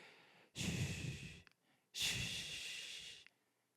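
A preacher in a church sermon imitates audible breathing with two long, close, breathy exhalations, each lasting about a second, separated by a short quiet pause.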